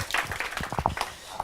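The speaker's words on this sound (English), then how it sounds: "And just another big round of applause for Casey, because we couldn't do it without" Audience applause at a live business conference, a brief, moderately loud burst of scattered claps that thins out quickly.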